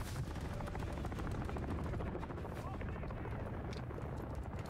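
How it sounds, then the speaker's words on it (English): Attack helicopter in Call of Duty: Modern Warfare 3 chops with a rapid, rhythmic rotor beat amid distant gunfire and explosions, steady and fairly loud. "Attack helos on me."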